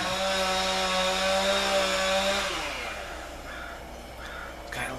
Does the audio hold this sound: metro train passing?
no